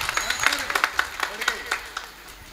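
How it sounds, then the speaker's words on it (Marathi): An audience at a Marathi devotional kirtan gathering claps in a short burst of scattered applause that thins out, with a voice speaking over it. "एकदा साऊंड सिस्टीमसाठी जोरदार टाळी वाजवा"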